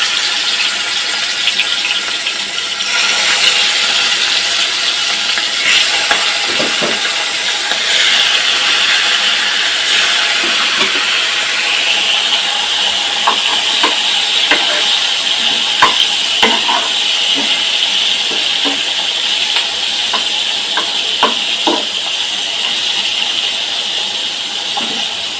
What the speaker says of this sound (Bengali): আমরা যখন মাছের পেটি ভাজবো সে সময় এই যে এই উল্টো পিঠ মাছের চামড়ার পিঠটা আগে দিব